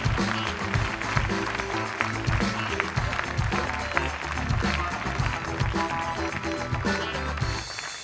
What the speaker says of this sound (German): So viel Applaus für Leipzig habe ich ja noch nie gehört.